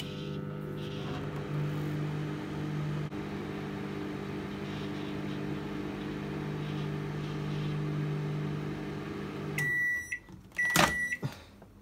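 A microwave oven heating a dessert with melted toppings for about a minute hums steadily and loudly throughout, then ends with a few bright electronic beeps near the finish.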